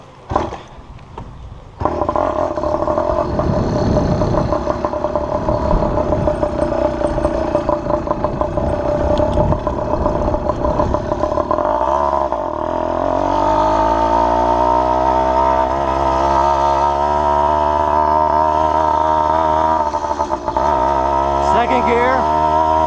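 A motorized 7-speed bicycle engine starts up and keeps running loudly and steadily close by, its note rising and falling with revs, with a person talking over it.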